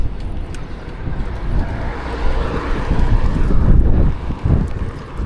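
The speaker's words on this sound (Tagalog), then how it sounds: "lakas ng hangin" Strong wind buffets the microphone while riding a bicycle outdoors, a loud low rumbling roar that swells and gusts unevenly, with no talking.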